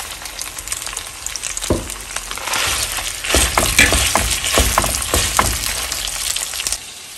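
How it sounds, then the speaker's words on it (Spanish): Longaniza sausage and boiled potatoes frying in a pan, a loud, close, crackling sizzle that runs throughout, with spatters and popping bursts and occasional utensil scrapes, no voices. "Vamos a dejar a que empiece a freírse, que quede más doradita."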